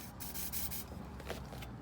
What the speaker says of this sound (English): Let me spray it again.